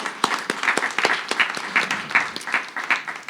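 An audience at a panel discussion on public lands and natural resources applauds to welcome a panelist, with many hands clapping in a dense, fairly even patter across the whole stretch, moderately close.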